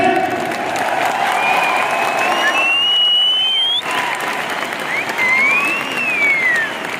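Loud, continuous audience clapping at a direct selling seminar, with faint cheers and voices mixed in and a tonal whistle-like sound gliding above the clapping.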